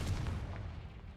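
A Confringo fire blast spell detonates in Hogwarts Legacy, a loud, deep booming burst that rolls and decays over about a second with no talk.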